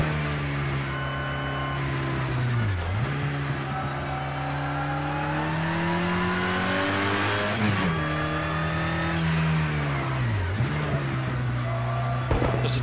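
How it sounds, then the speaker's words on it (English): A race car in Project Cars 2 cruising a cool-down lap, its engine droning loud and close with rising and falling pitch through gear changes and lifts off the throttle, steady and continuous with no talk. "Just a cool down lap now"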